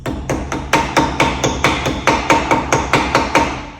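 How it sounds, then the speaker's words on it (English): Rapid, evenly spaced hammer blows knocking a rear brake drum back onto a Vauxhall Corsa C, about a dozen sharp metallic strikes with ringing tails, loud and close. "Hammer"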